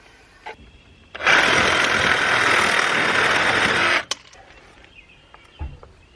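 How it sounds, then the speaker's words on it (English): A saw cuts through a short piece of PVC pipe, a loud, steady rasping burst lasting about three seconds between quieter handling knocks. "now I'm going to need to cut a little piece of pipe"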